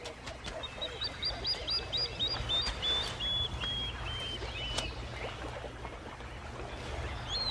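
A plover gives a rapid series of sharp, high repeated alarm calls aimed at a monitor lizard near crocodile nests, ringing clearly over a low outdoor hum before fading, with a few faint clicks and other distant birds.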